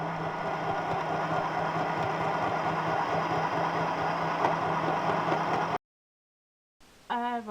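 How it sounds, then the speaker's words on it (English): A sewing machine stitches elastic onto a fabric face mask with a steady, close motor hum for about six seconds, then stops abruptly into silence before a brief faint rattle. "then start sewing"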